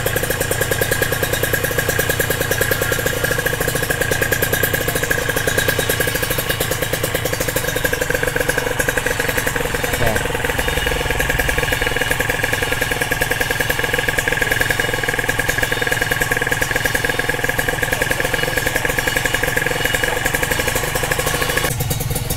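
A motorcycle engine idles steadily for the whole stretch, a constant low chugging rumble with some mechanical clatter, close by and loud.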